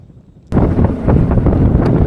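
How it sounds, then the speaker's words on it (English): Strong wind on the water while trout fishing from a boat on a bay with oyster bars, a sudden loud gust hitting the microphone and sustaining as a dense, close rumbling buffet. "You hear me, it's pretty windy."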